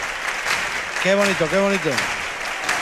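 Audience in the Falla theatre at a Cádiz chirigota contest applauding, a dense sustained wash of clapping throughout, with someone speaking over it.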